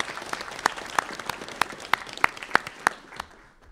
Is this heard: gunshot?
no